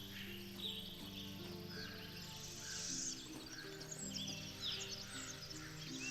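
Birds chirping in the video game Swordhaven: Iron Conspiracy, with scattered high tweets and insect-like trills over a steady low ambient drone, at a quiet, even level throughout.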